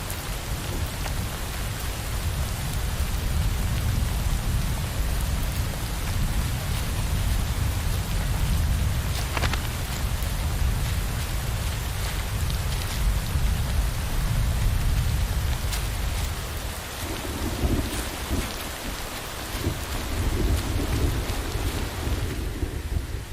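A heavy downpour falls on open African savanna with thunder rumbling, a dense loud wash of rain and deep low rolling booms throughout, then the rain eases near the end.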